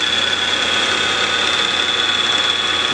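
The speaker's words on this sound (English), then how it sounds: "Just drill a couple of holes." A PM-940 CNC milling machine drilling holes: a steady machine whine with a high sustained tone, running continuously and evenly, close and loud, with no talking.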